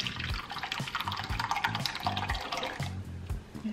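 Modelo beer is poured into a carnitas cooking sauce, a close gurgling, splashing pour with rhythmic glugs from the bottle.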